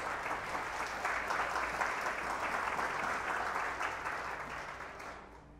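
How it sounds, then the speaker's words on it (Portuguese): A church congregation applauds during a worship service, giving a steady wash of clapping at moderate, somewhat distant level that fades out at the end. "Aplauda o Senhor em nome de Jesus."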